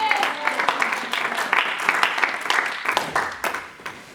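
A church congregation applauds in a sustained burst of scattered clapping that stays fairly even for about four seconds, with a few voices mixed in beneath the claps.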